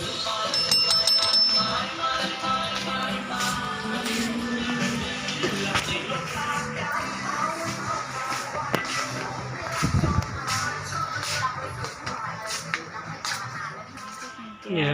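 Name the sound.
bell ringing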